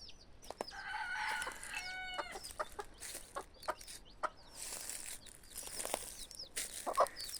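Chickens cluck and call close by in a lively, overlapping flurry, with a rooster-like crow early on and no talking.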